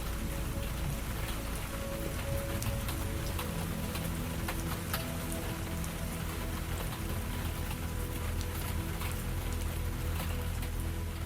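Steady rain falls on surfaces in a dense, even patter of drops that holds constant and close throughout, with no voices or other sounds over it.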